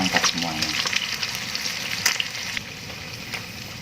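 Chicken and garlic frying in hot oil, a close, crackling sizzle with stirring clatter at the start that eases into a steadier, quieter fry.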